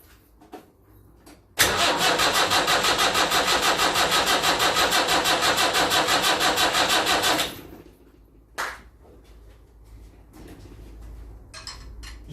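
A Land Rover Series 3 with a 2 1/4 diesel engine cranks on its starter in a loud, rapid, rhythmic churn for about six seconds, then cuts off. Faint clunks and shuffling follow.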